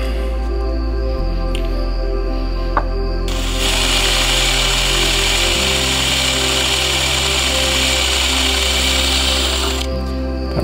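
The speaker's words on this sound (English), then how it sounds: "I'm just getting a rough drill right now going." A power drill rough counter-boring holes in knife scales runs in a loud steady whine, pitch stepping down partway, then a harsher, brighter cutting roar for several seconds before easing back to the plain motor hum.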